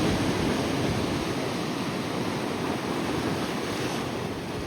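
Big ocean waves at the shore of Boat Harbour Reserve at very low tide, a steady loud roar of surf with wind buffeting the microphone, continuous and close, with no voices.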